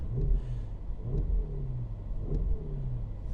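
Cabin view of a 2024 Porsche Cayenne Turbo GT in normal mode: a low engine drone rises and falls through three short revving pulls, steady and fairly loud, with no talking.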